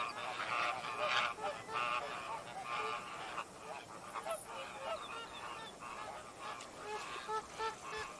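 A dense chorus of honking geese and other waterfowl calling continuously, loud and close, with overlapping cries throughout.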